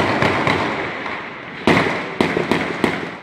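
Gunfire from a police shootout on a city expressway, with several sharp cracking shots, some in quick pairs, ringing out over a steady background roar at moderate distance.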